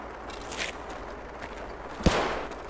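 A burst of gunfire in the video game Escape from Tarkov, a few distant pops followed by one sharp close shot and rumbling echo, over a steady background hum.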